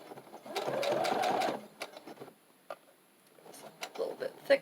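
A sewing machine stitching fabric binding onto a junk journal cover, a short whirring run of stitches followed by scattered clicks and handling sounds, close and moderately quiet.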